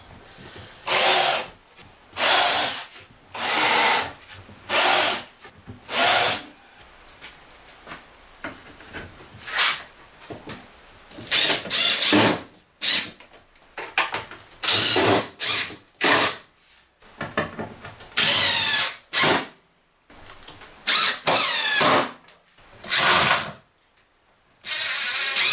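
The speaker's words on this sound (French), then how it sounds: "je vais fraiser un peu les trous pour encastrer les têtes." Power drill countersinking screw holes in wood, heard as repeated short loud bursts of whirring and grinding separated by brief pauses, with no talk.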